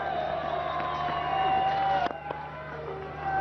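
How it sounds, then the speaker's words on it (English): A cricket crowd in the stands at Queen's during a Bangladesh versus Zimbabwe one-day international, singing and chanting as a distant, sustained wash of voices with faint horn-like tones and a few sharp knocks. "as they start there singing and chanting"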